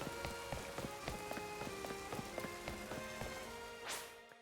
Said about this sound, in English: Please tell me it's still raining.